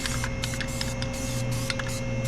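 A can of Harbor Freight surface shield aerosol sprays in bursts in a garage during spark plug work on a 2018 Lexus NX300, short hissing puffs over a steady low hum.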